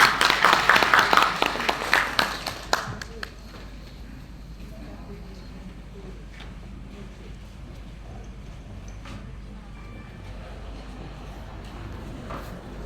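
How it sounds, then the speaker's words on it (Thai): An audience claps to welcome a speaker at a formal gathering of a provincial industry council. A burst of dense, fairly close applause runs for about three seconds, then fades into a quiet room with scattered faint noises. "ขอเสียงปรบมือต้อนรับคุณอภิชิตประสบรัตน์ครับ"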